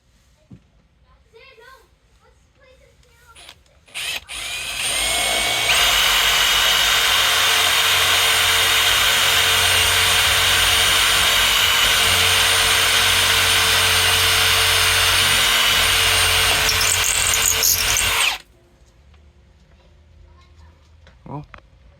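A power drill bores a hole through the roof of a 2020 Winnebago 2306BHS RV during a vent-to-fan swap, running loud and steady for about thirteen seconds, with brief quiet talk before and after.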